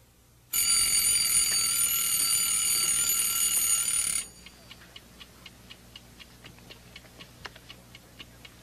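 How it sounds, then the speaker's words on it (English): An alarm clock rings with a loud, steady electric bell for several seconds, then stops, leaving a quiet, regular ticking of the clock running on alone. "The alarm just went off, Bert."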